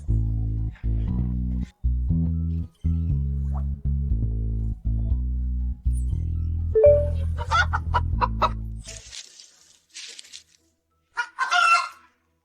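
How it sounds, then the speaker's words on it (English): Chickens in a rural spot cluck and cackle in a steady run of loud, close calls, rising to excited squawks and a few sharp cries before fading out, with no talk. "It's a chicken. There are chickens nearby."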